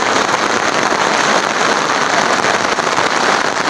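Heavy rain pours steadily in a dense, even hiss with no pauses, loud and close.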